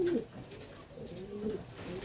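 Soft cooing of a pigeon or dove, a low wavering call heard fairly close against faint background hiss.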